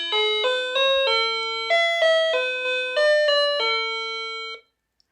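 Electronic doorbell plays a clear melodic chime of about a dozen bright tones in steady rhythm, then stops abruptly into silence.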